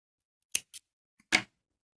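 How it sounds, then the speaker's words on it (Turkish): Scissors snip crochet yarn in a few quick, close, sharp cuts separated by short silences. "Burada bir tane zincir çekip ipimi kesiyorum."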